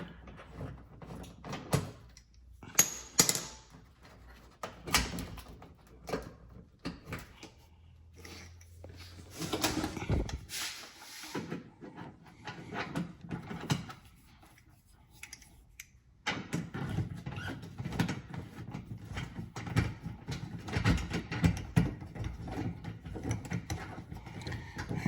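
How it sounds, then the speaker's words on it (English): Bolts coming out of a plastic underbody shield on a Dodge Charger Scat Pack, heard as scattered clicks, ratcheting and rattling knocks close by, with a steadier clattering stretch toward the end and no speech. "I gotta take this other bolt out and then it should come right off."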